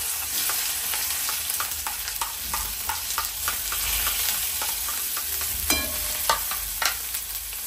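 Onion frying in hot oil after a mustard seed and curry leaf tempering, a steady close sizzle with repeated scraping stirs and a few sharper clinks of the spoon against the pan, no voices.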